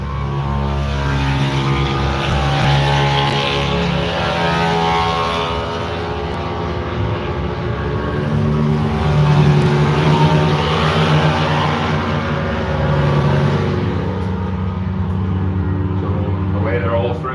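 Racing minibikes in Irish Minibike Championship qualifying at Bishopscourt make a loud, buzzing engine drone that swells and fades as they pass, with a commentator talking over it.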